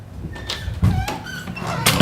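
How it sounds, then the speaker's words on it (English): Knuckles knock on a hallway door indoors during a dog mat-training session, with a couple of sharp rapping hits standing out clearly against quiet room sound. "knock on this hallway door"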